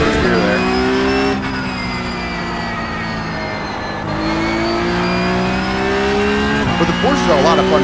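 Porsche race car in the iRacing sim, its engine holding a loud steady drone with sharp pitch drops and rises as gears shift, a brief tire squeal near the end.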